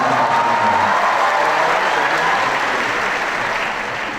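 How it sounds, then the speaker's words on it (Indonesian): A large student audience at a university orientation gives sustained, dense applause with faint crowd noise, holding steady throughout. "Tepuk tangan buat semangat universitas."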